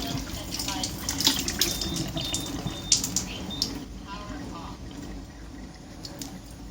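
Pouring pH 2.5 Kangen water into a container, a steady rushing flow of running water, close and fairly loud, tapering off toward the end.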